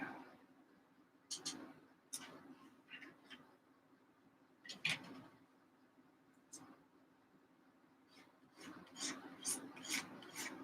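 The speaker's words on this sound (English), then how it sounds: "Scrape off some of this paint on here." A blade scrapes paint from a small part of a Tamiya 1/48 Avro Lancaster B1 bomber plastic model kit, giving close, intermittent raspy strokes in irregular bursts over a low steady hum.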